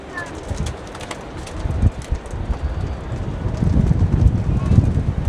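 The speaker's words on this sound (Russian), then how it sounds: "Ветер здесь конкретный." Strong wind buffets the top of a 33-metre bell tower, roaring and gusting loudly against the microphone in an uneven, continuous rush with low thumps throughout.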